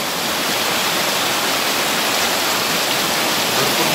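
Water rushes down a stream at night, a loud, steady, unbroken roar of flowing water close by, with no voices.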